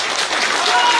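A crowd at a political rally in Hindol claps in a brief, dense burst, loud and close, with voices mixed in.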